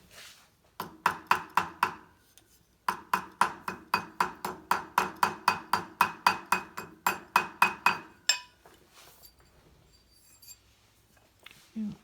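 Metal ring band hammered around a steel ring mandrel during jewelry making: two bursts of rapid, bright, ringing taps at a steady rhythm, loud and close, separated by a short pause, then quiet handling.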